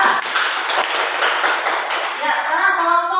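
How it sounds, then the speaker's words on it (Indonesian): Indoor classroom audience applauding a student group after its presentation, a dense burst of many hands clapping together at steady loudness for about three seconds, fading slightly toward the end as a voice begins. "Ya, tepuk tangan dulu untuk kelompok 2."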